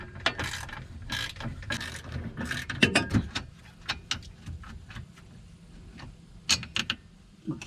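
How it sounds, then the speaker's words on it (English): Ratchet wrench clicking on the 13mm steering rack bolts of a 2009 Yamaha Drive golf cart, close and crisp, in bursts of rapid pawl clicks separated by short pauses. "Take out these 4 13mm rack bolts."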